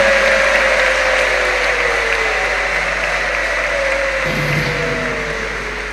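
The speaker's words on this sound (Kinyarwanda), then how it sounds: "bihe amashyi n'impundu." Applause at a formal ceremony closing an investigation, with the crowd clapping steadily and loudly and a high tone running through, slowly tapering toward the end.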